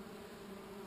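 Honey bees buzz around a beehive frame, a steady, close swarm hum that stays faint and continuous through the short moment.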